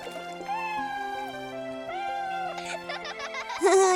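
Cartoon cat meowing in the video game Avatar World, several short tonal mews over light game music, with a brighter chirpy burst at the end.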